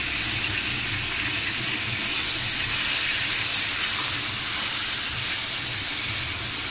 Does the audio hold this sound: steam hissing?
yes